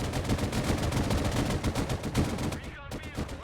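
Rapid automatic gunfire in the RTS video game Broken Arrow, loud dense bursts of shots rattling continuously, with a brief pause and ringing tail near the end.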